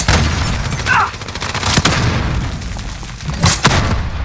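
Gunfire in Call of Duty Warzone, a dense, loud stream of shots and booming impacts with sharp cracks near the two- and three-and-a-half-second marks, running continuously with game noise throughout.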